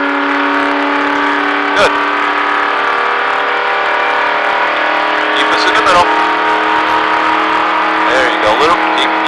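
A race car engine on the Daytona Speedway track holds a steady loud drone with a fairly constant pitch, while an instructor talks over it from inside the car.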